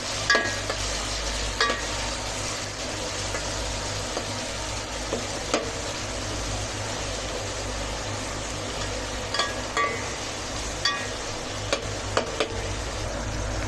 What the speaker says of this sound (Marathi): टॅमॅटो टाकून व्यवस्थित फ्राय करून घेऊया।